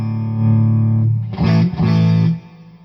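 A Quilter Tone Block 202 head with gain turned all the way up, loud buzzing hum and distorted drone, swelling into a noisy burst of crunchy saturated tone before fading back to hum.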